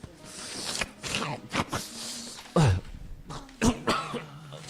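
A person coughs repeatedly in harsh, throaty bursts with some throat clearing, close to the listener, as others talk nearby.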